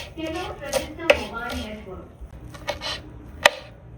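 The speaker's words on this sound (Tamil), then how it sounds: "இப்போ மல்லி இலைய சின்ன சின்னதாக வெட்டி எடுத்துருவோம்" A knife chops coriander leaves on a board, with several sharp separate strikes at an uneven pace. The strikes are fairly close and clear over a quiet background.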